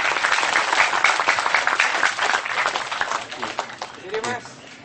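Applause from a crowd, steady and fairly loud, fading toward the end as a voice begins speaking.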